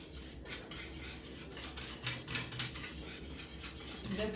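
Melted butter, oil and flour are whisked briskly in a bowl, rapid metallic clicking strokes running steadily at close range without talk.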